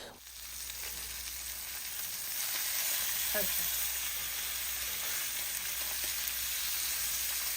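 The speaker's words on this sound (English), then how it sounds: "We're going to allow the salmon to brown on the other side as well." Maple glazed salmon sizzles steadily in a pan after being flipped, a continuous close frying hiss that grows slightly louder and holds, with a few faint stirring touches and no talk.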